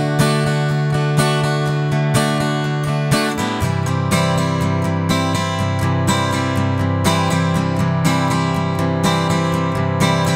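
Electric guitar plays the second half of the verse of a song, a steady, loud, continuous riff with repeated rhythmic picking and no voices.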